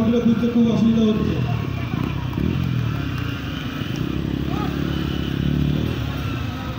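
Motorcycles rumble at a riders' meetup in Kasba, Kolkata, where KTM RC and Duke bikes and 300cc Ninjas are gathered. Engines idle and putter at a moderate distance beneath continuous nearby talk.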